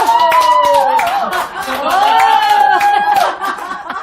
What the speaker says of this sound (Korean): 이걸 한번 해 박수를 해보겠습니다